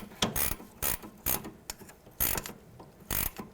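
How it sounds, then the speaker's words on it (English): A 17mm wrench turns the nut on a front sway bar link of a 2007-2012 Nissan Altima, making several short ratcheting clicks in irregular bursts, close and clear, with no talking. "I'm going to use my 17mm wrench to loosen this."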